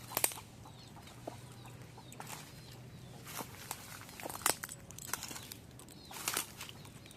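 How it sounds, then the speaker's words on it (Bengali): Hens with chicks scratching about near eggplant plants, giving soft, quiet clucks and light footsteps scattered among faint background noise. "ওই যে আর একটা মুরগি আছে,"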